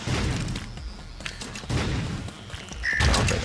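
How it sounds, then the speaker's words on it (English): Homing missiles in Super Meat Boy set off a rough run of bursting, booming blasts, loud and clustered, with a sharp electronic tone near the end. "They're fucking homing missiles, too!"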